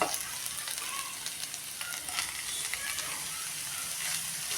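Fenugreek greens sautéing in a pan with chillies and turmeric, a soft continuous sizzle with faint scraping and rustling, close but fairly quiet, no voices.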